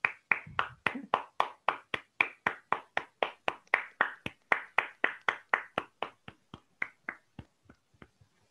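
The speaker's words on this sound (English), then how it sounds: "Let's continue applauding him." A single person clapping for a speaker at an online Toastmasters meeting, about thirty crisp, evenly spaced claps, close to the mic, that gradually slow and fade.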